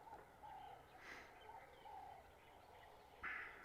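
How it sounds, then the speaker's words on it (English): Birds calling outdoors, faint and distant, a few short chirps and a brighter call near the end over a quiet background hiss with no talking. "birds making a noise in the background"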